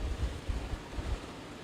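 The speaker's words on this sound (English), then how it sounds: "it is very windy, to say the least" Hurricane Milton's high winds buffet the microphone near Sarasota, a loud continuous low roar with gusting surges and no other sounds.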